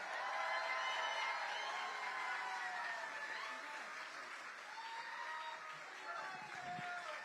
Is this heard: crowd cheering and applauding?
yes